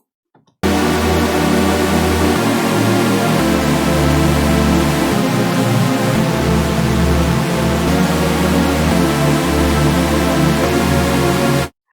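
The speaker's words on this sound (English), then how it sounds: "That sound is what we call a supersaw." A supersaw synth of seven detuned saw wave voices in unison plays a chain of sustained notes for about eleven seconds, loud and dense with a wide, shimmering, slightly chorused buzz, ending abruptly.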